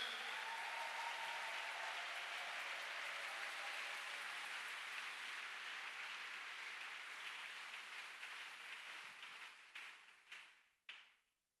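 A church congregation applauds during a sermon, a dense steady clatter of many hands that holds loud for several seconds, then thins and tapers into a few last scattered claps.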